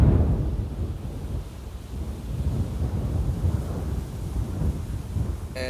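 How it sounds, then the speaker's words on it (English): Strong wind gusts at Amsterdam Airport during aircraft arrivals buffet the microphone, making a loud, continuous rumbling roar that swells and eases without a break. "Trying to keep the camera as steady as possible with all the wind gusts."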